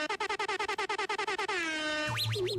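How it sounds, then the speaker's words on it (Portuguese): Air horn sound effect blasted on a Brazilian radio show: a rapid train of short, loud horn bursts, then a long sustained blare that sweeps and wobbles in pitch, ending with a low buzzing tone. "Nakamura, solta pra mim a buzina dessa sexta-feira"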